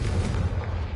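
A Confringo spell goes off in a Harry Potter video game, a short, heavy, low booming blast that rumbles loudly for about a second.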